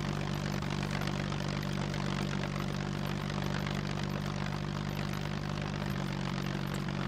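Float plane engine in the SCUM video game, a loud, steady propeller drone with a strong low hum, continuous and close throughout without break.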